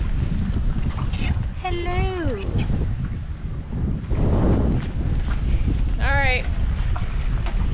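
Heavy, steady wind buffeting the microphone with a low roar on a fishing outing, while a person briefly speaks a couple of words over it.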